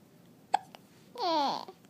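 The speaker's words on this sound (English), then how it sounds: "Those silly hiccups." A single sharp hiccup pops up during a storytelling session, followed a moment later by a longer voiced, babbling sound, both close in an otherwise quiet room.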